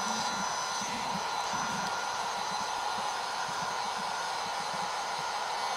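A hot air heater blows steadily onto a 12 V 300 Ah LiFePO4 battery, giving a continuous close whooshing roar with a faint fan whine and no pauses.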